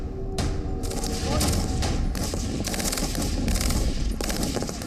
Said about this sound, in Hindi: जेनिन के कई इलाकों में धमाकों की आवाजें भी आ रही हैं।